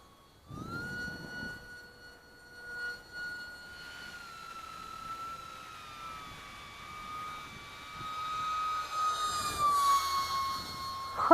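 TechOne FPV Wing 900mm RC plane flying, a thin high-pitched motor whine that holds steady, drifts slowly lower and swells louder toward the end, heard alone over light background noise.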